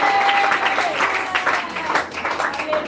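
A church congregation breaks into applause and cheering, a dense wash of clapping mixed with crowd voices, fairly loud and close throughout.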